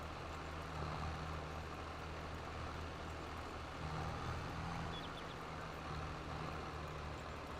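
Upgraded tractor engine in Farming Simulator 22 runs with a steady, continuous low drone and hum, constant in level throughout with no pauses.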